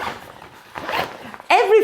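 The purple zipper on a Longchamp Le Pliage Xtra backpack gives a couple of short, close zipping rasps, the last one louder, while someone talks over it.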